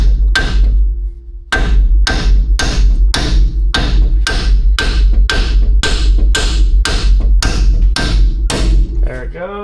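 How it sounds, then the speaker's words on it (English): Repeated heavy blows from a 3-pound hammer striking the steering knuckle of a Ford F-150 4x4, about fourteen loud metallic clangs in a steady rhythm, close and dominant with a short pause near the start. "3-pound hammer. We're going to hit the knuckle and try and break that loose."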